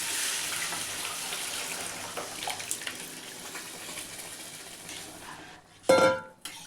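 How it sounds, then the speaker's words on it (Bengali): Moong dal poured into a pot holding fish heads, a short wet splashing rush near the end that cuts off sharply after a long stretch of steady kitchen hiss. "ডালটা ঢেলে দিচ্ছি।"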